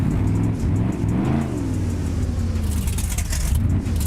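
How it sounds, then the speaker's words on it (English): A loud truck engine in BeamNG revs and shifts pitch up and down, a close, continuous motor roar with no talking. "that truck is pretty loud"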